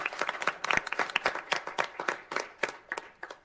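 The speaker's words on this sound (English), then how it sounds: "You want to clap." Applause at a city council regular meeting, a small room of people clapping unevenly for a few seconds at moderate loudness, with no talking over it.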